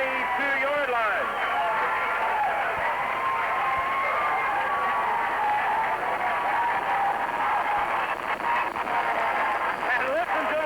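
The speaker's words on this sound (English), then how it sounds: "And listen to the crowd." Crowd noise at a 1985 high school football game between St. Vincent and Potosi, a continuous loud roar of cheering and yelling from the stands with scattered applause, with a commentator's voice speaking over it.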